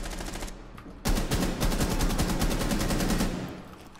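Gunfire in Rainbow Six Siege: a sustained automatic burst of rapid, loud shots close by, starting abruptly after a brief quieter lead-in and running for over two seconds before cutting off.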